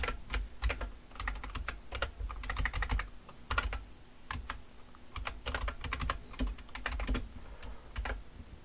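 Rapid, steady typing on a computer keyboard while entering Visual Basic code, with close, dense clicking keystrokes over a low background hum.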